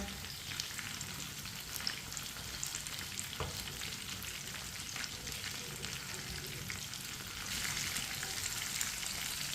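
Chicken fries in a pan with a soft, steady sizzle and crackle, at moderate distance with no talk. The sizzle gets slightly louder near the end.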